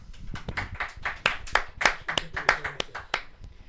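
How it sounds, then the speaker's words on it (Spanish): A small group claps loosely and irregularly for a few seconds, the claps close and sharp. "Otro aplauso."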